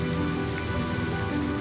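Rain falls in Honkai: Star Rail, a dense, even patter of drops on surfaces that holds at a steady level throughout with no voices.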